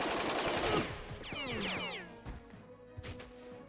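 Bursts of gunfire in the tactical video game Jagged Alliance 2, a rapid rattle of shots at the start followed by swooping whistling effects and a few scattered later impacts.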